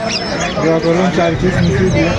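Chickens cluck at a fancy poultry market in Khulna where Brahma and Silkie birds are sold, many overlapping close clucks and squawks forming a busy, loud chorus.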